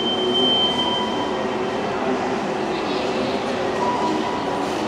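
Steady, dense rumble fills a spacious Jakarta metro station, with trains rolling through and a constant wash of station ambience, moderately loud and unbroken throughout, without distinct voices.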